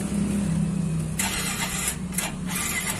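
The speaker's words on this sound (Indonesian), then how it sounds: "Ini motor yang tadinya nggak bisa di starter. Coba kita colokin dulu. Kita coba ya. Kita hidupin." A motorcycle engine that previously would not start is cranked and catches, with a steady mechanical hum followed by a few sharp starter-like bursts, close and loud, with no voices.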